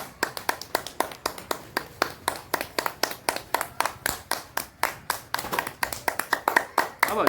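Children clap their hands in a fairly steady rhythm on a rainy day, about thirty sharp claps close by, with a faint voice in the background.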